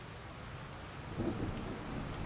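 Rain and thunder from the Farming Simulator 25 video game, a soft steady rainfall with a low rumble of thunder swelling midway, fairly faint, with no one speaking.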